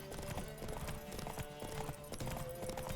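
Horse hooves galloping in The Witcher 3, a fast rhythmic clip-clop running steadily and close throughout, layered over background game sound and music.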